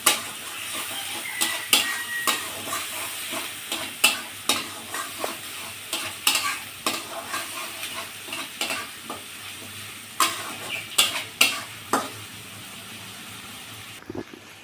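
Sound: frying spice paste with turmeric powder

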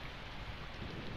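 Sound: rain and thunder in the video game Persona 4

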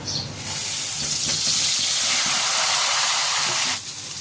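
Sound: eggplant frying in hot oil

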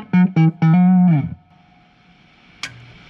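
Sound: electric guitar neck pickup through Fender Deluxe Reverb amp

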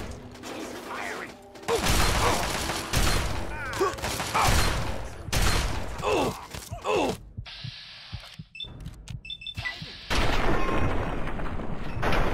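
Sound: gunfire from an enemy in the video game Fallout 3

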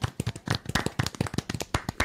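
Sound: clapping for a podcast guest

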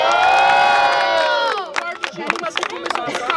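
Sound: crowd cheering at rap battle

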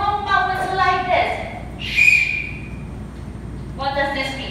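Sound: tour guide blowing a whistle

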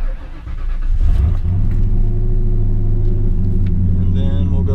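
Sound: turbo Ford Mustang engine starting

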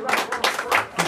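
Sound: applause at birthday party

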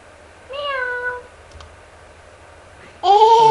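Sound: cat meowing

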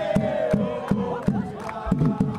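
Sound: home fans shouting incessantly in the background at a football match

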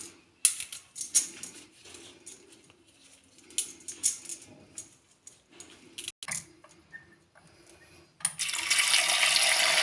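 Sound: washing kohlrabi leaves with water

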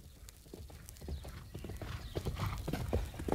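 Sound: horse hoofbeats

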